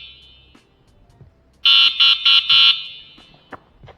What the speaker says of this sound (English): This horn is loud as heck.